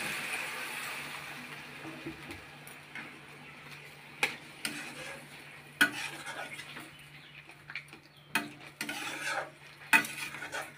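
Curry being stirred in a pan, with soft scraping and a few sharp clinks of a utensil against the metal over a low steady hum, no voices.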